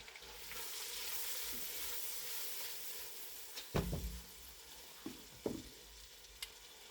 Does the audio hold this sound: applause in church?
no